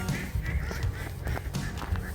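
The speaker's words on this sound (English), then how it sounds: "The ducks are pretty feisty tonight. Making a lot of noise and flapping their wings in the water." A flock of ducks on a melting winter pond in Edmonton calling in a quick, noisy series of quacks and honks, near and loud, with splashing of wings in the water and no voices.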